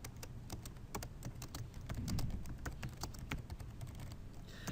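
Rapid, continuous typing on a computer keyboard, with keystrokes clattering steadily and close by over a low background hum, with no voices.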